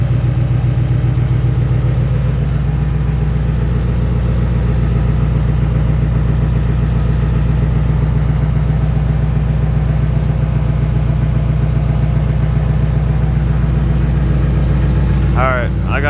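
A cold-started LML diesel truck engine idles loudly and steadily with a deep low rumble, while its lift pump grinds away underneath and a person talks over it.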